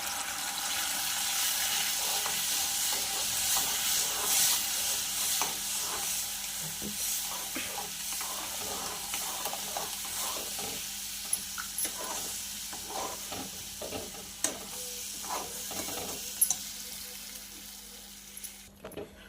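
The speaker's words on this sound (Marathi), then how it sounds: "याला मस्त मध्यम गॅसवर असं छानपैकी ढवळून घ्यायचं आहे" Besan batter being stirred into boiling water over a medium gas flame, giving a steady soft bubbling hiss with faint scraping and occasional light clicks of the spoon against the pot, quiet and close, with no talk.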